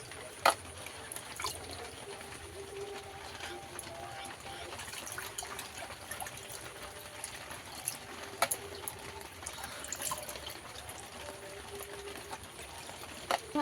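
Water trickling and splashing as a homemade skin remedy is rinsed off hands, a soft continuous wash with occasional small knocks and drips, close by.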